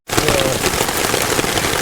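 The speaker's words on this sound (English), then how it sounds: "it started hailing like it is right now" Hail falls outside by a campfire on a cold Colorado overlanding trip, a dense continuous patter of pellets striking the ground and gear, steady and close with no gaps.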